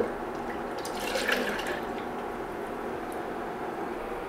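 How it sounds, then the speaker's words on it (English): Melted homemade wax finish poured from a pan into a jug, a soft continuous liquid trickle with a slightly fuller splash in the middle, close and fairly quiet. "I'm going to get it poured into a jug"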